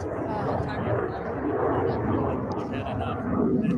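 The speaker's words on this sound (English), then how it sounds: "Planes flying over." Airplanes pass overhead at a press conference, a low, broad rumble of engines sustained beneath people talking.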